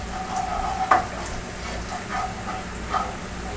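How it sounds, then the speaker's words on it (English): Rough-chopped garlic cooking in a pan with leftover clams, a low steady sizzle with a few brief stirring scrapes and clicks, close and fairly quiet, no voices. "I'm going to cook the garlic until it's soft and fragrant, but I don't want it to burn or turn brown."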